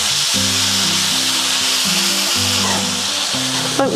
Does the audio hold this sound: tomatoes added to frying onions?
yes